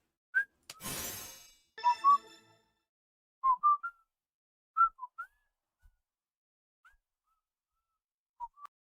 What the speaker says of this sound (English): He barely knows how to whistle.